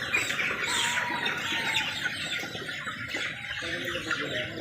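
Chickens cluck on a mountain farm during harvesting of the birds, a steady stream of clucking calls from several fowl under outdoor background noise.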